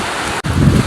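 Sea surf at Bolinao beach, a loud, rushing wash of waves with blustery wind on the microphone, broken by a brief dip before the water swells again.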